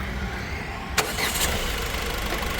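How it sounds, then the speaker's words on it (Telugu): A 2016/17 Ford EcoSport Titanium starts up: a short crank and catch near the one-second mark, then the engine settles into a low, steady idle close by. "ఒకసారి ఇంజన్ స్టార్ట్ చేయి"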